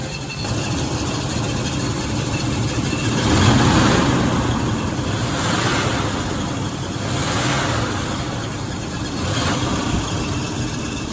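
A 1984 Oldsmobile Delta 88 engine runs steadily as the car creeps forward and back, a continuous close mid-range drone that swells gently a few times under light throttle, with no talking.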